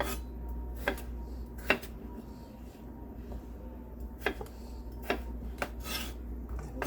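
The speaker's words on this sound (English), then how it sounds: "I'm finishing cutting up some potatoes" Potatoes being cut up by hand for mashed potatoes, a knife striking a cutting board in scattered sharp chops over a low steady hum, with no talking.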